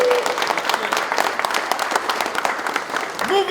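Crowd at a rap battle tryout bursts into dense, loud applause and cheering, steady clapping filling the whole stretch with a few whoops near the end.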